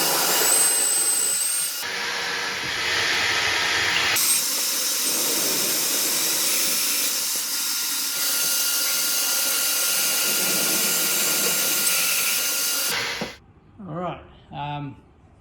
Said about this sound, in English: I'm going to run the vacuum because it's going to make a fair bit of dust.